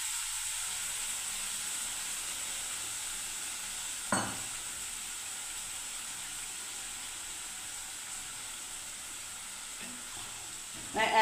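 A yogurt curry in a pan keeps up a steady, even sizzle and hiss after a little water is added, with a couple of brief stirring clinks and no voices.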